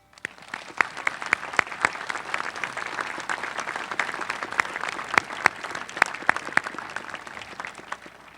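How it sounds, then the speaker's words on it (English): An audience at a graduation and diploma presentation claps for parents and families, a steady wash of applause with crisp individual claps standing out, continuing for several seconds. "Let's give them a round of applause."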